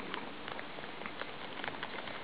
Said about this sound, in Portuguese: Começo de chuva.